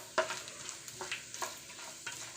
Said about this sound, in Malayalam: തേങ്ങാക്കൊത്ത് ചേർത്ത് കൊടുത്ത് നല്ലതുപോലെ ഒന്ന് വഴറ്റി കൊടുക്കുക.